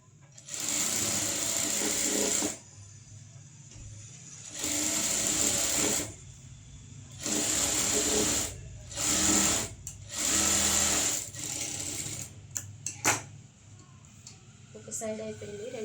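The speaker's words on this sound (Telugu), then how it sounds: "కుట్టు మొత్తం కలిపి ఒకసారి స్టిచ్" Sewing machine stitching a blouse, running in several loud bursts of steady whirring separated by short pauses, ending with a few brief taps and a softer patch.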